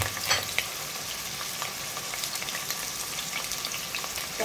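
Sliced onions frying in oil for birista, a constant crackling sizzle with a few stirring scrapes near the start, moderately loud and steady with no speech.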